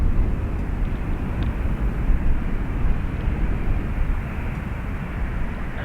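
A jet airliner rolling down the runway on takeoff at Dublin Airport, a heavy continuous low engine roar that holds steady at a distance, with no speech.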